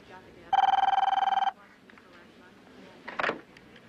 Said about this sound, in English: I say, Kurt, getting to know the sound of your ring.